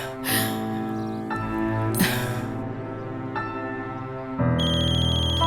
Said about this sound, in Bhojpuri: फोन लगता। उठावा